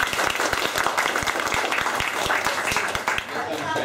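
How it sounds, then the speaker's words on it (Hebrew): An audience applauds actors at a behind-the-scenes film event. The applause is dense and continuous, with individual sharp claps standing out in a quick patter, then tapers slightly toward the end. "ואנחנו אחרי זה נמחה להם כפיים"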